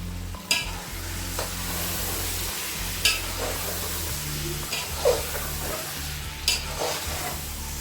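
Chicken roasting in a pot over a full flame gives a steady, close sizzle, broken by a few sharp scrapes and knocks of stirring, with a low hum underneath and no voices.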